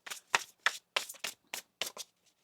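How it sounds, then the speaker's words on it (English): Tarot cards being shuffled by hand, a run of crisp papery riffles and slaps in uneven bursts, close and clear with no talking. "One more shuffle here."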